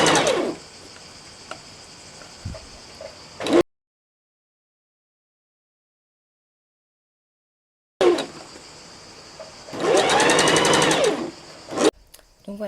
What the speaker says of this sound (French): j'ai pu terminer ma couture proprement, hein, avec le pied roller